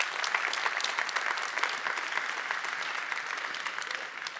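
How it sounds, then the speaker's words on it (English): A live event audience claps in a steady, dense wash of applause throughout, moderately loud and without any voices over it. "Big round of applause."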